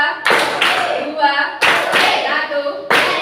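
Fourth-grade classroom students clapping together in a clap game, sharp unison claps landing in short groups with pauses between, loud and close, with a voice speaking between the claps.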